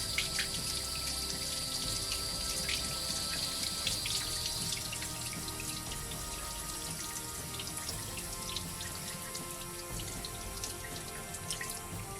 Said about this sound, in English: just soak it and then gently rub it away under running water